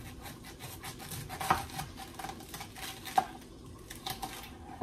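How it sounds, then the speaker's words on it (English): Cabbage being grated for coleslaw, soft rasping strokes in a quiet kitchen, with a couple of sharper knocks against the grater. "The way how I make my coleslaw is I grate my cabbage."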